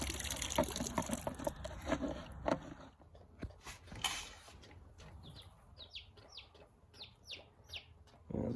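Six baby chicks, barred rocks, golden sex links and Rhode Island Reds, chirp in a run of short high peeps near the end, after a stretch of splashing water and handling noises.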